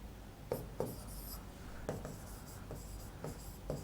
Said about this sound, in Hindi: तो यहाँ पर मैं लिख देता हूँ।